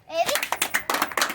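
A few children clap in a birthday-party guessing game at home, a short run of quick, light claps mixed with children's chatter.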